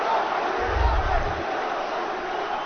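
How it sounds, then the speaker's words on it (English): Arena crowd at a fight night chants for Islam Makhachev, a loud, rumbling mass of voices with a surging roar partway through, heard under a commentator's voice. "Crowd chanting for Ислам Mахачкала."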